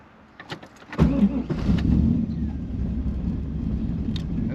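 A third-generation Chevrolet Camaro with an LT1 V8 cranks briefly and catches, then settles into a rough, uneven idle running close and steady with no talk over it.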